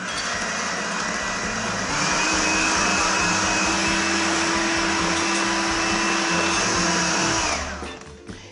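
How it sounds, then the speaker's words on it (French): An electric whisk whirs steadily at high speed while beating egg yolks with icing sugar, a loud continuous motor drone that rises slightly in pitch after a couple of seconds, then winds down at the end. "Je vais commencer à fouetter."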